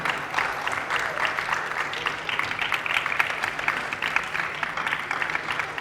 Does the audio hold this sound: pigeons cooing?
no